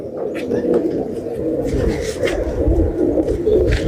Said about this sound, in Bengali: এবার এক্সট্রিম বাজির কবুতর দেখুন পিটিয়ে চলে যাচ্ছে